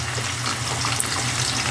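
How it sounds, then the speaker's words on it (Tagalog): Marinated milkfish (bangus) frying in hot oil, a steady close sizzle and crackle with a low hum underneath, continuous and alone without talk. "Prito lang, diretso lang prito."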